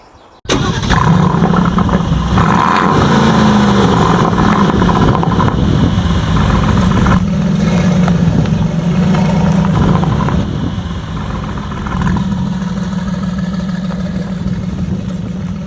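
Aston Martin Vantage F1 Edition engine bursting into life after a brief quiet moment, then running loud and close at a rumbling idle with slight shifts in revs.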